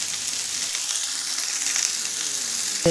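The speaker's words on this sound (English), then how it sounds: "I'm stir frying it" Steady crackling sizzle of food stir frying in a hot pan, continuous and fairly close, with a brief clatter at the end.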